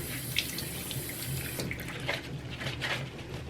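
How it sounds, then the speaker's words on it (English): Tap water runs steadily into a bathroom sink or tub during a rinse of freshly cleaned surfaces, a continuous close splashing hiss with small shifts in flow and no talking. "Then I just kind of give everything a rinse with water and it's good."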